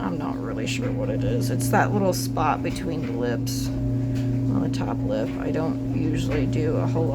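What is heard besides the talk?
No distinct noise like a dog, phone or traffic.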